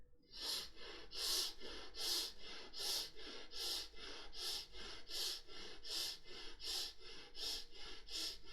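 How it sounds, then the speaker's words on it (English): Slow, gentle breathing through the nostrils during a meditation practice, a soft airy rasp repeating about every second in a steady rhythm, close and quiet with no talking. "you start breathing through the nostrils into the chest"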